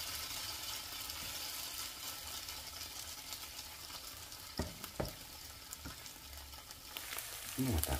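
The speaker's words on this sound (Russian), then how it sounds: "Ну вот так пускай жарится." Food sizzles steadily in a hot pan, a constant crackling hiss with a few brief clatters of utensils near the end.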